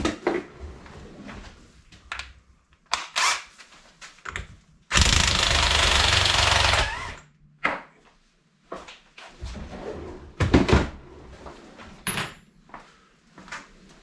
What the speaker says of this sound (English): See if the nut gun will get it off.